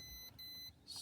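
A Pyronix Euro 46 alarm panel gives two quick high beeps while being set, a thin electronic tone with a brief gap between them, faint and close.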